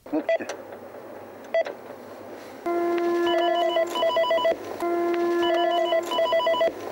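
A telephone rings at a police station, an electronic ringing pattern repeating in two bursts after a few short beeps, fairly close and clear over a low background hum.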